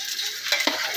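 A utensil stirs pancit bihon rice noodles in a pan over a soft sizzle, with a couple of quick scraping knocks near the end of a very short moment.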